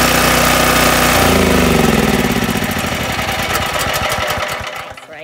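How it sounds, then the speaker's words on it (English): A generator engine runs loud and close in a steady drone, then slows into uneven chugging and winds down as it is shut off. "I don't really mind shutting off the generator."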